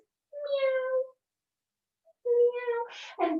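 A person imitates a cat, giving two drawn-out, nasal meows separated by a silent gap, close and clear, followed by the start of speech.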